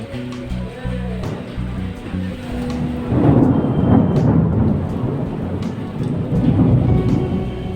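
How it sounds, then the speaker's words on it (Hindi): Heavy rain pours steadily in cold winter weather while thunder rumbles low and long, rolling beneath the downpour and swelling louder in the second half; a voice talks over the storm. "अच्छा खासा गरज बरज के साथ बरसा है"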